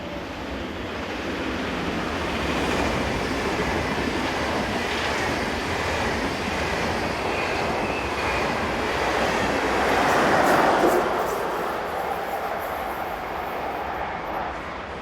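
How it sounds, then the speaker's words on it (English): A Swiss class 460 electric locomotive pushes from the rear of a Zurich to Bern passenger train, a steady rushing rumble of passing carriages that swells to a peak midway and then slowly fades, heard alone without voices. "Sister Loco 460015 is next to be seen, powering north on the rear of the 1106 Zurich to Bern."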